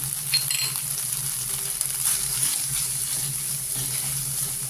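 Ground coriander and Kashmiri chilli powder frying with softened tomato for egg curry, a close continuous sizzle with scraping stirs and a low hum beneath.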